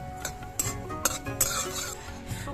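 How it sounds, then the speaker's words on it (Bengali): Two dry red chillies and panch phoron hitting mustard oil in a wok, quiet crackle with a few sharp utensil clinks and scrapes against the pan. "এবার কড়াইতে দিয়ে দিচ্ছি সামান্য পরিমাণ সরষের তেল, দিয়ে দিচ্ছি 2টো শুকনো লঙ্কা আর একটু 5 ফোড়ন।"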